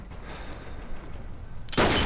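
Gunfire from the World War II shooter Call of Duty: WWII in a trench map, a loud sharp shot bursting in near the end over a steady game-background rumble.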